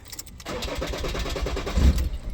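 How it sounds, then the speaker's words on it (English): A 2013 Ford Ranger 3.2 L five-cylinder diesel cranks with a steady rhythmic starter churn, nearly catches with a brief low surge, then dies without starting, close and alone. "If your car is not starting like this, trying to start and it dies off like that and doesn't start"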